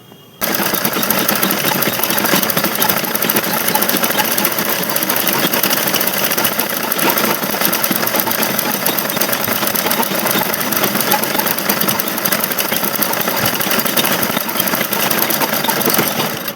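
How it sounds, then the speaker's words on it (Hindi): A sewing machine runs a single line of stitching to attach a fall to a saree, starting abruptly and then whirring loud and close in a fast, steady mechanical rhythm without pause. "इसलिए मैं इस पर एक सिंगल सिलाई चला रही हूँ"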